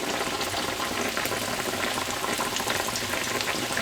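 Chicken legs deep frying in hot oil for chicken and waffles, a dense, steady crackling sizzle that stays loud and even throughout with no voices.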